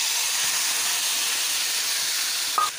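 Boal fish mixture sizzles in hot oil in a wok, a steady broad hiss that holds evenly throughout, with a small clink near the end.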